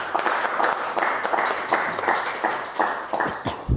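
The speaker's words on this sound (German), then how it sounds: "bitte mal Applaus für Kevin Kromig." Audience applause for a guest speaker at a university talk, a dense steady wash of many hands clapping at moderate distance, holding evenly throughout without voices.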